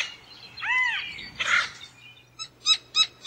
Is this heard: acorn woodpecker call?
yes